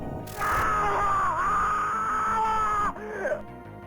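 A game character in Mirrors lets out a long, strained scream lasting a few seconds, loud and close, its pitch wavering before trailing off into a brief whimper.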